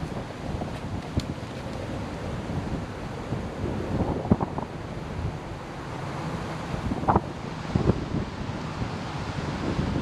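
Blustery wind at the seashore buffets the microphone in a steady, loud rush, with the low wash of surf mixed underneath and no talking.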